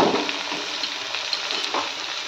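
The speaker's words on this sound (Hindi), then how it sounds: "इसे अच्छे से सारी सब्जियों को फ्राई करेंगे चलाते हुए।" Cauliflower, potato and tomato pieces fry in a pan while being stirred, a steady close crackling sizzle with light scraping from the stirring.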